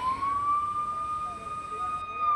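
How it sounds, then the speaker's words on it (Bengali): A siren wails steadily from an ambulance carrying a patient through a rain-soaked night traffic jam during a festival outing, a sustained rising and holding tone above low street rumble. "এই জ্যামের মধ্যে একটা অ্যাম্বুলেন্স ঢুকে গেছে, তো পেশেন্ট নিয়ে যাচ্ছে"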